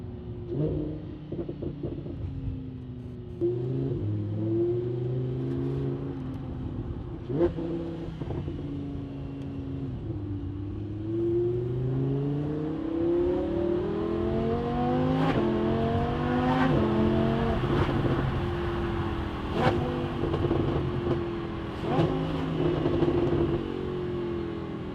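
A Lamborghini Huracan fitted with a custom exhaust accelerates, its engine note climbing and dropping through repeated loud, close revs with a raspy, race-car-like howl and no talking.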